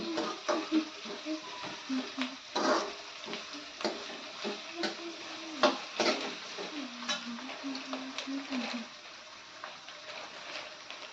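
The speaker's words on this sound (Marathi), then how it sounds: "कांदा छान परतवून झालेला आहे" Onions sautéing in a pan for a dal khichdi, with a soft steady sizzle under repeated clinks and scrapes of a spoon stirring against the pan, close and moderately quiet.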